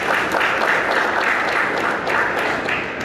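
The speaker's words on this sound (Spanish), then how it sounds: "recibimos con un fuerte aplauso" Listeners at a law forum on a new criminal code applaud warmly, a dense and steady round of clapping that stays loud and unbroken for about three seconds.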